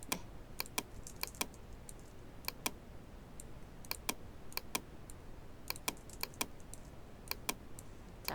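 A computer keyboard clicks in quick, irregular bursts as keys are pressed and shortcuts are tapped while working in Photoshop. The keystrokes are crisp and close but quiet, with no voices.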